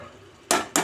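A metal lid set down onto a cooking pot on a stove over medium flame, two sharp clanks close together, loud against a quiet background.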